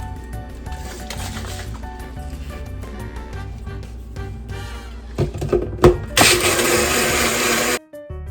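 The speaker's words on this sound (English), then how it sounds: "I'm gonna let it blend longer so that I can really pulverize" Kitchen blender running on horchata ingredients, a steady motor whir that surges louder and harsher near the end before cutting off abruptly.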